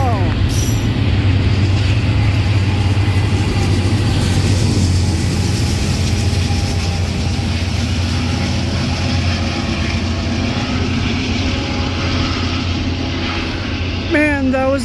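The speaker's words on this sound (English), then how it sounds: "Man, that was a good train." An Amtrak Pacific Surfliner train with H1 locomotives, one leading and one shoving at the rear, rumbles steadily past at close range, loud and continuous with clattering wheels, and a brief high squeal near the end.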